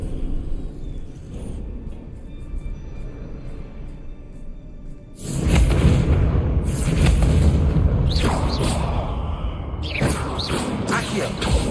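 Spell blasts go off in a Harry Potter wizard video game: a quieter stretch gives way to a string of loud, heavy booms and bursts, with a voice shouting over them.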